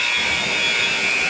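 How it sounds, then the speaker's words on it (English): A loud, sustained electronic buzzer sounds at the end of a high school boys basketball game, one steady harsh tone filling the whole moment with no talk. "The shot at the buzzer."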